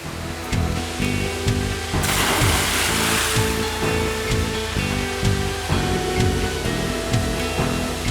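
Steady rushing roar of fresh water pouring from a waterfall in the Australian Outback, continuous broadband noise that swells louder midway, with background music layered over it.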